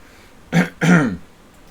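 A man clears his throat and coughs in two short, close bursts, the second longer than the first, with no other talk around them.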